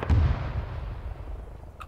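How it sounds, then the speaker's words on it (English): A single heavy cannon shell impact booms in the Arma 3 war game, a sharp low blast that rumbles and decays over a couple of seconds. "That's your cannon straight in the center."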